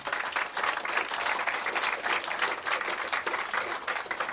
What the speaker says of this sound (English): Let's give a round of applause for the Reason Center.